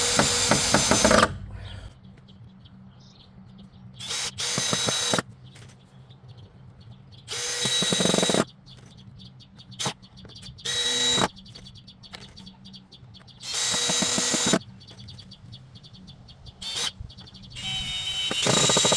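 A cordless drill drives long screws through planting box boards in repeated loud bursts of whirring, each lasting a second or two, with quiet gaps between them and birds chirping faintly outdoors.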